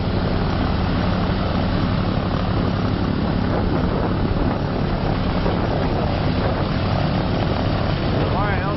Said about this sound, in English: There we go on the left engine.